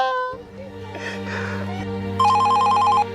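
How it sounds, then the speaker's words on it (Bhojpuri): A telephone rings in a comedy skit, its electronic trilling bell repeating in a rapid warbling pattern, close and clear over a low steady hum, growing louder in the final second. "अब कौन फोन कर देला"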